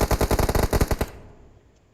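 Rapid automatic gunfire in a video game shooter: a loud, close burst of about a dozen evenly spaced shots lasting roughly a second, then a fading tail into near silence.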